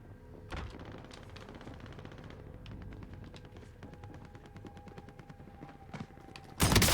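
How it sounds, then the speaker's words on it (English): Gunfire in Call of Duty Warzone, a run of sharp, repeated shots and impacts at moderate volume, closing with a loud, dense burst in the final moment. "Got my own shotgun."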